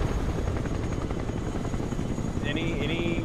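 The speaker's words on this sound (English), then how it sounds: "I'm just going to do a shit ton of helicopters for the last point." Several helicopters thrum steadily in the war video game Broken Arrow, a continuous close rotor drone with a rhythmic beat, as players talk over it and a brief higher electronic tone chirps near the end.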